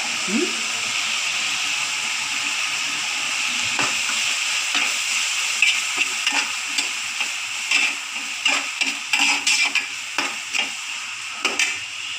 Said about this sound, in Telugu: సాల్ట్ వేస్తే తొందరగా వేగుద్ది.